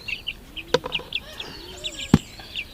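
Free-range Oriental chickens clucking close by in an outdoor area, with repeated short clucks and chirps, occasional louder squawks and a sharp knock, over quiet background.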